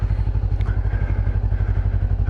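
A motorcycle engine idles and putters at low speed during a slow turn with front braking, a loud, close, steady thumping exhaust pulse with no talk.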